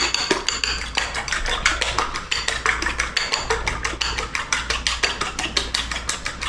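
A fork beats and stirs eggs in a bowl, making a fast, steady run of close metallic clicks and taps against the bowl's side that continues throughout with no talking.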